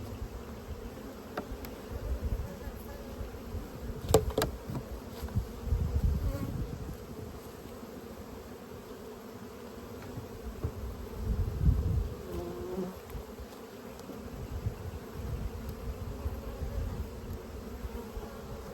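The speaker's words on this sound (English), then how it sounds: "There's a lot of bees this year." Many bees buzzing around a hive, a steady droning hum with swells as insects fly close by, no voices.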